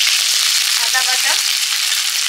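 Ginger paste fries in hot oil for a Bengali shol fish curry, a loud, steady, close sizzle that holds unbroken throughout.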